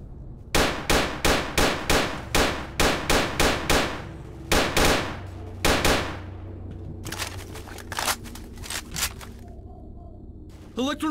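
Gunfire in STALKER: Call of Pripyat rings out as a fast run of loud, evenly spaced metallic shots, then a short pause, a few more blasts and a quicker scattered burst, with talk faintly underneath.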